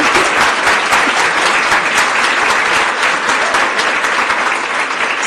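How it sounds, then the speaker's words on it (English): Loud, thick applause from a large Town Hall Seattle audience after a speaker, sustained without a break and close, a continuous wash of many hands clapping. "let's give her a big round of applause"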